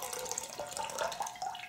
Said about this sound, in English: Just dump all the water first.